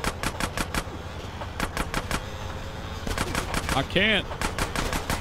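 Rapid gunfire in GTA San Andreas Definitive Edition, bursts of shots cracking in quick runs over engine rumble during a drive-by, with a short voice speaking briefly partway through.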